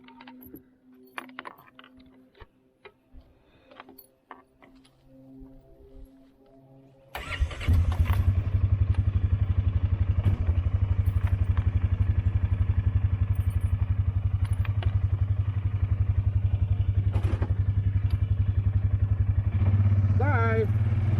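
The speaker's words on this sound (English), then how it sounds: "Let's go drive around the ATV." Keys jangle and small handling noises come first, then a Polaris Sportsman 450 H.O. ATV starts and settles into a loud steady engine drone that continues under a voice talking.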